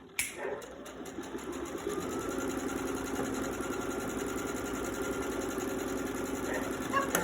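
A sewing machine stitches a quilt panel with a steady, fast whirring run that continues almost unbroken for several seconds after a brief start, close and clear.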